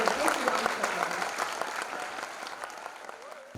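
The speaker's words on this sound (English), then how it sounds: "Let's welcome them with a big round of applause." Audience applause greeting a school band at an English Week celebration, a dense burst of clapping from a crowd that gradually tapers over a few seconds.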